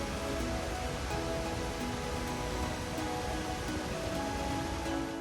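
A waterfall in southern Iceland pours in a continuous, even roar of rushing water, like heavy rain or surf, steady throughout with no voices.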